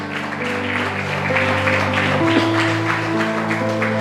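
Church congregation claps strongly in worship, a broad rhythmic clapping spread over sustained organ or keyboard chords, fairly loud and continuous.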